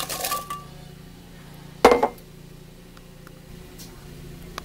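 A lid set onto a blender jar holding chopped unpeeled apple for muffin batter: one sharp clink partway through over a low steady background hum.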